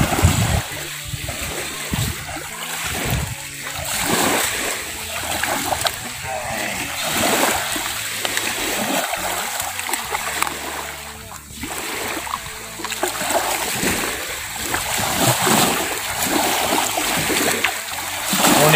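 Water splashing as someone bathes in the sea, continuous churning and slapping of water at close range, with someone talking throughout over the splashes.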